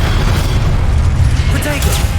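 Spell blasts from the Hogwarts Legacy video game, heavy booming bursts and crackling impacts in a loud continuous barrage, with a voice shouting spell names over them.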